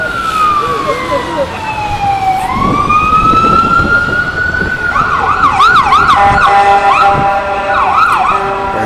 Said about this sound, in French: One of the operation chief of the Montreal Fire Department just went by. That was the siren we just heard.